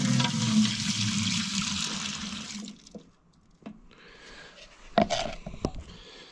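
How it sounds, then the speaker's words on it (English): Liquid pours and splashes into a pail for about two and a half seconds as a liter of heavy-duty cleaner is added, a steady rushing flow, then it stops, leaving a few scattered knocks and clatters. "Put a liter of that in the pail."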